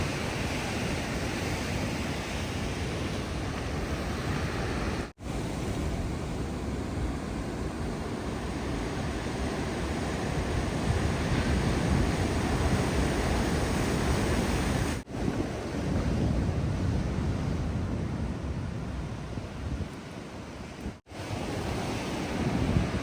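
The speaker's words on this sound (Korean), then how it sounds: "파도 소리 듣고 이제 물줄기 또 막 올라오고" Steady roar of ocean waves crashing on the shore beside a coastal road in Goseong, South Korea, loud and continuous with wind noise, no voices.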